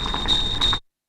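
A rising tea-kettle alarm icon sounds as a short, steady electronic whistle-like tone with two brief swells, then cuts off abruptly into silence.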